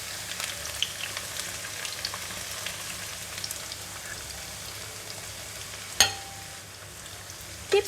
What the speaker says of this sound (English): We are going to put the rest of the sliced shallot into the hot oil.